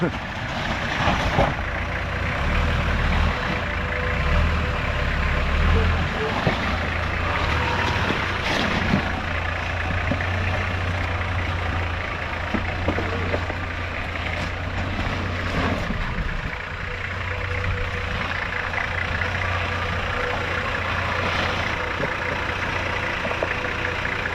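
A vehicle engine drones steadily while reversing down a mountain, a continuous low rumble lasting the whole stretch with occasional bumps and knocks, and a person speaking over it.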